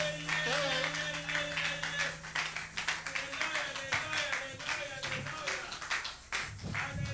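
A church congregation clapping in rhythm in acclamation, steady quick claps under singing and talk, moderately loud and continuous throughout.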